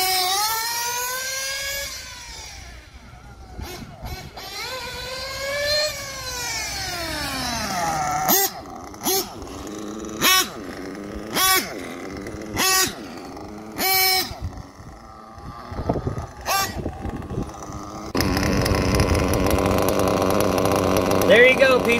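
A fifth-scale Associated RC truggy with a tuned Adam Drake gas engine revs up and down, high-pitched and buzzing, with sharp throttle blips in the middle and a sustained loud roar at the end.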